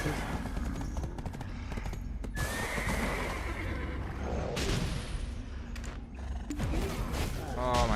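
A horse in the Black Desert Online video game lets out a loud whinny near the end, amid busy game sounds including clattering hoofbeats and bursts of sharp, gunfire-like cracks.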